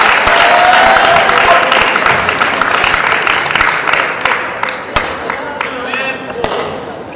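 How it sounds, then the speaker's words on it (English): Spectators applaud at a women's singles table tennis match at a European team championship. The clapping is loud and full at first, then thins into scattered individual claps as it fades. "applause."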